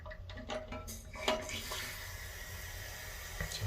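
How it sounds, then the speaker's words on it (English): Water rushes steadily from a newly installed fill valve as a toilet tank refills, a continuous close hiss and trickle that runs throughout. "let the water come on, and now it's stopped."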